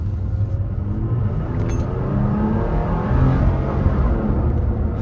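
A 2017 Toyota Tacoma TRD Sport pickup with a V6 engine drives along, giving a steady, loud low engine rumble with road noise that swells slightly midway, with no voices.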